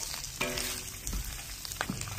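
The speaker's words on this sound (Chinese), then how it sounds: "排骨下锅" Cured pork ribs hit a hot wok and fry with a steady, close sizzle, with a few sharper crackles and stirring clinks over about two seconds. No one speaks.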